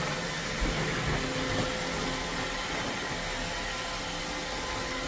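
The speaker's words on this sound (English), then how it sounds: "So I have the Roomba going" An iRobot Roomba robot vacuum and mop combo (Y0140) runs across a dusty floor, giving off a steady, moderately loud motorized whir and fan hum that holds level throughout with no voices.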